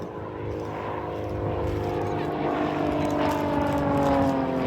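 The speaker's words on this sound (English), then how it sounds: "Displaying the tutor requires careful energy management to its low power-to-weight ratio." A Grob Tutor propeller aircraft flies an air display, its engine droning steadily and rising slightly in pitch and loudness as it passes, with no talk.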